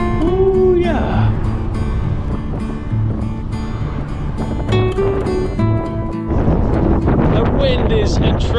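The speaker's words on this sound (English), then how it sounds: "The wind is atrocious." Heavy wind buffeting the microphone while cycling downhill on a bikepacking ride across Spain, a loud steady roar throughout, with a person speaking briefly over it.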